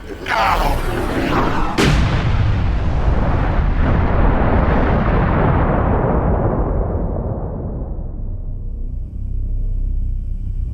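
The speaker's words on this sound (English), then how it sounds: "the Xenos gunship has no space to maneuver, and the two collide in a chromatic blur of explosive smoke and steel" Heavy explosion of a Xenos gunship colliding with a ship in a sci-fi space-battle drama, a sharp blast near the start followed by a long, loud roaring rumble that slowly fades while staying dense throughout.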